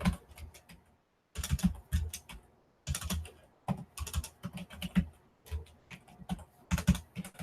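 Keys clatter on a Commodore 64 keyboard in quick bursts of typing separated by short pauses, close and fairly quiet, with no voices.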